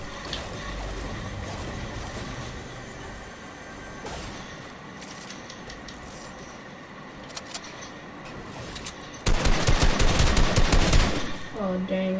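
Rapid SMG gunfire bursts from a video game, loud and close over constant game ambience, with a denser, heavier stretch of shooting near the end.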